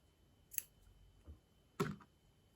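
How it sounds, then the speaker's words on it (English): Scissors snip through yarn while crocheting a granny square, giving two sharp, close cuts about a second apart in an otherwise quiet room. "cut the yarn."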